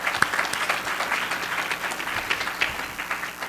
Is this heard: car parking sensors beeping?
no